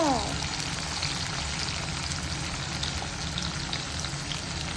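Onions frying in a pan, browning, make a continuous dense sizzle close by, with a short tonal sweep at the start and a faint voice mixed in underneath.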